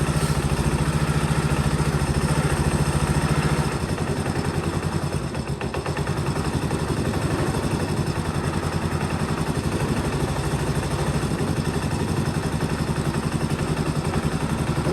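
A 1984 Honda ATC125M three-wheeler engine runs after a carburetor rebuild, a steady, close, buzzing idle with a clattery mechanical rhythm that dips slightly about a third of the way in and then holds even.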